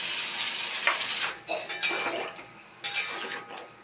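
Water goes into a hot pan of spiced potatoes and pointed gourd after the masala has been fried down, giving a hiss and sizzle with clinks of a spoon against the pan.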